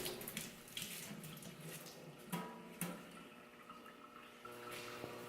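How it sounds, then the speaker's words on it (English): Cold tap water runs steadily into a sink while a paintbrush is rinsed under it, making a soft continuous splashing stream with a few sharper clacks as the brush is worked. The sound is fairly quiet and there is no talking. "the brush under cold water and brush out and wash out and smash out and sort of clean out the brush as much as possible"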